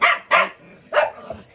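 Energetic dog barking at home, three sharp barks spaced out with a fainter yip trailing after, close and fairly loud with no talk over them.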